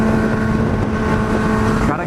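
A Honda Hornet 102 hp sport motorcycle engine roars loud and steady while riding, a strong continuous drone with a droning harmonic tone, buffeted by heavy wind noise throughout.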